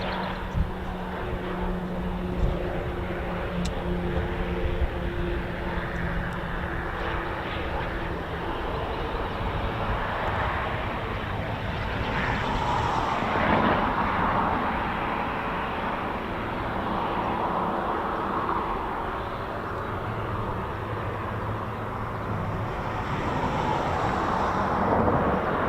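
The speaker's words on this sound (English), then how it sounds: "with an aircraft waiting to depart and another one just coming in now" Aircraft landing at RAF Cranwell during live pilot training, a steady broadband engine roar with a gentle swell around the middle, heard at moderate distance and sustained throughout.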